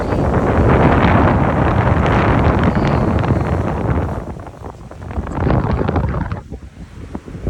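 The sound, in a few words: wind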